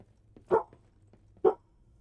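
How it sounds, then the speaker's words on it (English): A dog in the video game Lies of P gives two short, clear barks about a second apart against a quiet background. "That's my dog right there."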